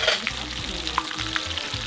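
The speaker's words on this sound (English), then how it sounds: "we're going to put in all of your garlic and everything" Garlic sizzles and crackles in a hot pan while being stirred for a spicy lobster dish at a riverside street food stall in Jamaica, a close, steady frying hiss with occasional pops.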